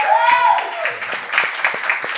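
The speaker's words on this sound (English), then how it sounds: "round of applause for Dick" A crowd applauds at moderate volume while a voice speaks and cheers over the clapping.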